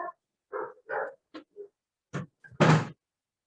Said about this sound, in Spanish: Son perros del vecino.